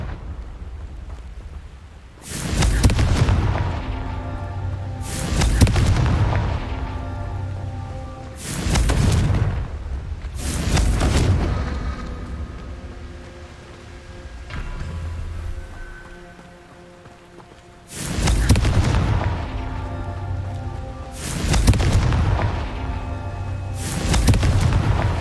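Confringo fire-spell explosions in Hogwarts Legacy, a string of loud booming blasts, about eight in all, arriving in uneven bursts with rumbling tails in between.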